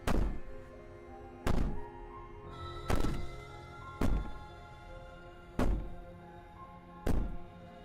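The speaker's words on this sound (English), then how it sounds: "Maybe the banging and wailing will stop if you just don't pay attention to it." Heavy banging on a door in the video game Slay the Princess: six loud, evenly spaced thuds about one and a half seconds apart, each booming and ringing out over a low, steady background.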